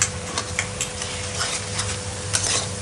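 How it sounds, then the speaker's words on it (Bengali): Spice paste and potatoes sizzling in a pan with yogurt while being stirred, with scraping and soft clinks of a utensil against the pot. "এখন আমি অল্প দই দিয়ে ভালো করে এটাকে আরেকটু ফ্রাই করে নেব"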